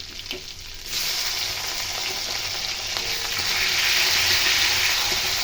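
Chopped tomato hits hot oil already cooking with ginger, setting off a loud, steady sizzle after a brief quieter moment. The frying stays close and continuous, with faint stirring scrapes underneath.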